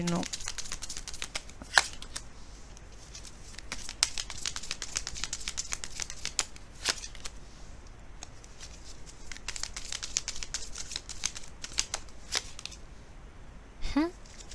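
Tarot cards shuffled by hand, a steady rapid riffling and flicking with sharp snaps scattered throughout, close and fairly loud over a quiet room.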